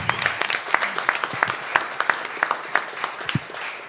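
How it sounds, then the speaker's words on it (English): Audience applause at a startup pitch competition, a steady patter of many clapping hands with sharper individual claps standing out, moderately loud and close, with no talking over it. "Round of applause."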